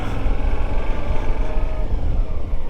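Heavy motorcycle struggling through a stream on a rough trail, its engine rumbling loud and close in a steady, throbbing low growl with sputtering pulses, alone without voices.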